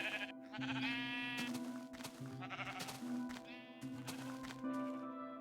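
Sheep in the video game Minecraft bleat repeatedly, several wavering, fairly close bleats in quick succession with short gaps, alone without any talking.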